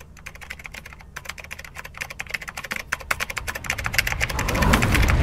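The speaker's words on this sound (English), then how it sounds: "I like the typing sounds in this game." Rapid computer keyboard typing in the horror video game Lethal Company: crisp, fast keystroke clicks in an irregular rhythm, close and clear, over a low engine-like hum that grows louder toward the end.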